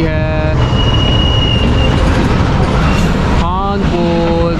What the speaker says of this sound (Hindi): 28 डाउन शालीमार एक्सप्रेस रवाना हो रही है